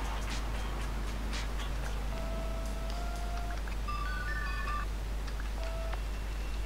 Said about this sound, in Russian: Рингтон у нас.